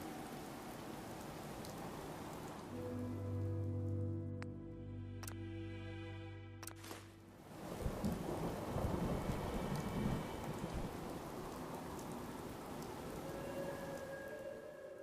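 Steady rain and rolling thunder from the Far Harbor expansion of the video game Fallout 4, a loud crack and rumble midway over constant downpour, with synthetic tonal game sounds briefly layered in.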